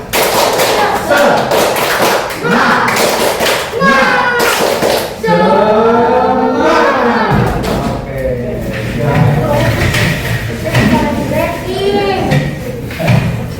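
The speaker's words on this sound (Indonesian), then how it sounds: "Oke, kita tepuk semangat" A school class breaks into a rhythmic spirit clap, with sharp patterned claps in steady bursts alongside children's voices and chanting, loud and close in a busy classroom.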